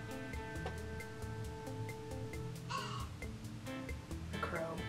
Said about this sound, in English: A crow. Crow.